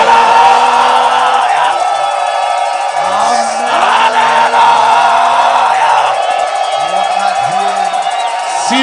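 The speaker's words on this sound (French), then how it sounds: "Que les gens poussent des cris." A church congregation at a cornerstone-laying service shouts and cheers in a loud, dense wash of voices, with rising and falling yells and whoops breaking through the steady crowd roar.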